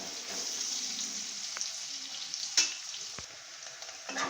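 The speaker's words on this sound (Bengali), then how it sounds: "যতক্ষণ না এই পেঁয়াজটা ভালো করে ভাজা হচ্ছে, আমি এইভাবে আমি নেড়ে চেড়ে নেব" Onions frying in a pan and being stirred, a steady close sizzle broken by a few soft scrapes and clicks from the spoon, with no talking.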